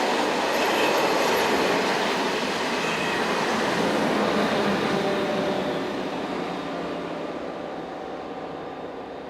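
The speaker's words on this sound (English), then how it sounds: "Arriving at the station is the 1217 from Belfort to Dijon, powered at the rear by dual-voltage electric locomotive number" Passenger train on the Belfort to Dijon service arriving at a station, pushed from the rear by a dual-voltage electric locomotive, a loud sustained rumble of wheels and rail noise with faint squeal, close and slowly fading, no speech.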